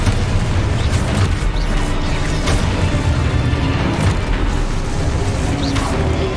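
Spells blast in Hogwarts Legacy, a game full of magic combat. Loud, continuous booms and bursts overlap with a heavy low rumble, and crackling impacts come one after another.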